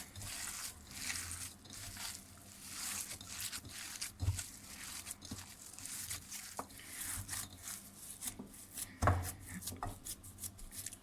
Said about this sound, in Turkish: Şimdi hamburgerimin köftesini yoğuruyorum